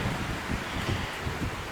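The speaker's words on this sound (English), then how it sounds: "It is windy." Wind buffets the microphone outdoors in an Australian garden on a Saturday afternoon, a continuous low rumbling roar with soft gusting swells and no talking.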